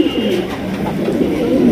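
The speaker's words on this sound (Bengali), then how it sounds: "মাশাআল্লাহ অনেক সুন্দর দুইটা বোম্বাইয়ের বাচ্চা সহ অরিজিনাল ইন্ডিয়ান বোম্বাই কবুতর" Original Indian Bombay pigeons, adults kept with two chicks, coo in a soft throaty repeated murmur close by, the cooing running continuously through the short moment.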